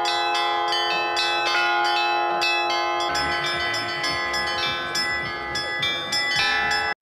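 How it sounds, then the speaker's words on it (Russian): Church bells at the temple of St. John the Warrior ring in a festive peal before a holiday service, many overlapping strikes sounding loud and continuous with a rich, sustained tone, and no voices. "А началось все с колокольного звона и праздничной службы в храме Иоанна Воина."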